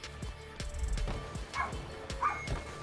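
A pet dog barks and yips indoors, several sharp barks in quick succession under a noisy mix of esports broadcast sound and crowd.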